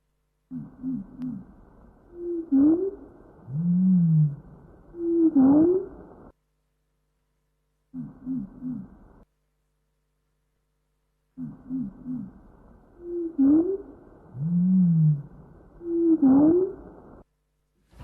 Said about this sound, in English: let's listen to the next sound that the nightingale is going to sing for us.